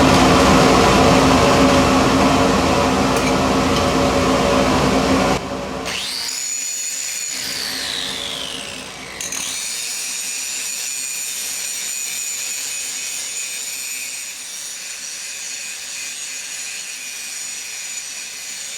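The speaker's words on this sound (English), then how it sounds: "turn on the sucky suck, and just grind it over here on the plasma table" Angle grinder working a metal part on a plasma cutting table with the dust extraction running, a loud continuous grind that drops away partway, leaving the steady whine and hum of the extractor alone nearby.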